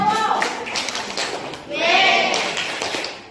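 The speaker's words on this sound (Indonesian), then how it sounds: "kita tepuk tangan dulu untuk Bapak Rizka Bersedia." A classroom breaks into applause, a steady wash of clapping that swells partway through, with children's voices mixed in.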